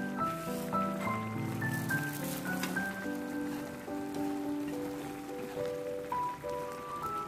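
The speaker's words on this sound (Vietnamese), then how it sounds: "Trời mưa nè" Steady rain falls in a continuous broadband patter, with melodic music playing over it throughout and no talking.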